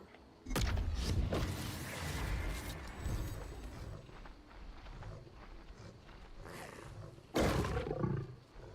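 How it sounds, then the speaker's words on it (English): A saber cat in the modded Skyrim LoreRim game lets out two loud, close roars, a long rumbling one followed by a shorter burst near the end, over game background noise. "Let's check out Saber Cat."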